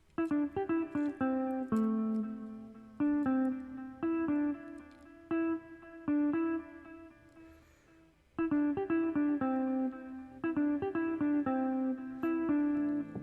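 A guitar melody from an amapiano FL Studio remake of a song's chorus plays alone: a loud, steady run of bright plucked notes in phrases, with short pauses near 3, 6 and 8 seconds.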